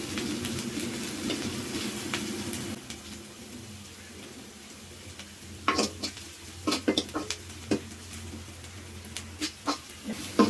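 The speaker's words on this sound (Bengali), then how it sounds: "এইভাবে ভাজতে ভাজতে লাল করে ফেলতে হবে।" Vegetables frying in a pan to brown before bottle gourd and chana dal are added, a steady sizzle with the spoon scraping and clinking against the pan in irregular bursts, closer and sharper toward the end.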